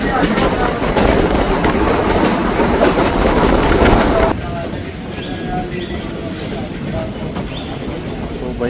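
The Kalka–Ambala Cantt passenger train no. 54532 rumbles and clatters along the rails near Chandi Mandir, loud and steady, then the roar drops to a softer rolling rattle halfway through.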